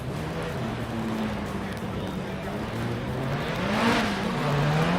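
A drift car with an SR20 engine revs hard at a drift competition in Malaysia, its engine note rising and falling continuously over loud crowd and commentary noise, with a brief surge near the end.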